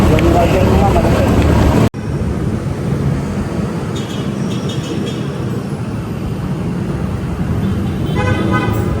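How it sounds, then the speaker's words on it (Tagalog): Heavy evening traffic near a Manila mall: dense engine rumble and road noise, with a car horn honking out near the end, heard close from a motorbike pillion after a brief cut. "Grabe traffic."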